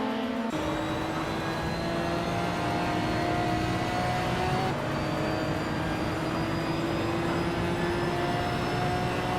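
Engines of a 2015 Nissan 370Z Nismo GT4 and rival race cars roar steadily at the start of a video game race at Rouen-les-Essarts, a dense continuous drone with shifting pitch, loud and close throughout.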